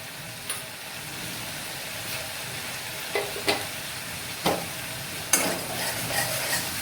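Spice paste with turmeric stir-fried in a pan for stuffed kantola, a steady sizzle broken by several sharp scrapes and knocks of a spatula, close up and without voices.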